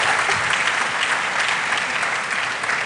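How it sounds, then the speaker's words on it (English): Sustained audience applause fills a lecture hall for Sir David Adjaye at a university public lecture, a dense even roar of many hands throughout. "A round of applause."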